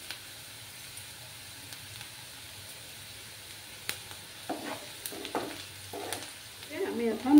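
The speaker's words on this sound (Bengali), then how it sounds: "পেঁয়াজটাকে আরো একটু ভাজবো আমি।" Onions frying in a pan over raised heat, a soft continuous sizzle that grows busier toward the end with scattered stirring clinks and scrapes, quiet and close.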